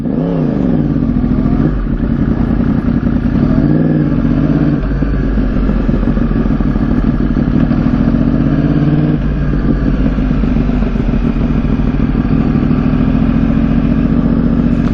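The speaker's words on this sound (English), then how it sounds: "Alright, you guys, we got Cody with us on his Gixxer." Suzuki Gixxer sport motorcycle engine running alongside other riders, a loud close throaty drone with small shifts in revs, continuous throughout with no talk.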